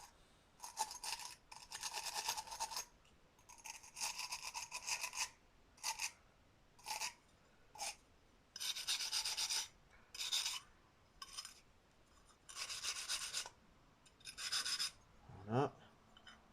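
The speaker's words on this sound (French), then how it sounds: "J'essaie de décaper un peu, mais moi je vous dis, avec l'intérieur de la cuve et ma grosse brosse métallique, c'est pas évident." A large wire brush scrubs the inside of a metal tank on a Bernard W110 engine, producing bursts of harsh raspy scraping in irregular strokes with short pauses between, fairly close and with no talk.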